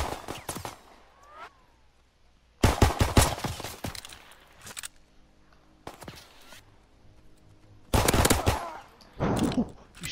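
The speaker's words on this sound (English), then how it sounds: "You shot me with the machine gun" Machine gun fire in the Call of Duty: WW2 video game, several loud bursts of rapid automatic shots separated by quieter stretches of game ambience.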